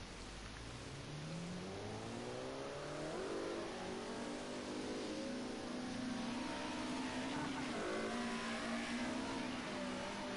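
A Group A1 touring car revs and spins its wheels at Zolder, the engine note climbing and falling repeatedly, loud and sustained, in a race setting with a faint high whine above.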